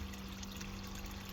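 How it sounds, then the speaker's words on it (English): A small solar-powered pond pump drives a little fountain, giving a steady, continuous trickle of water with a constant low hum beneath it and no talking. "I also use a solar panel little water fountain then,"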